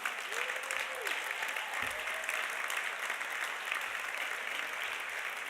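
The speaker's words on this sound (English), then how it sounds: "a round of applause" Sustained applause from a large audience at a conference closing address in Malta, a dense continuous roar of clapping that holds steady throughout, with faint voices and a brief whoop in the mix.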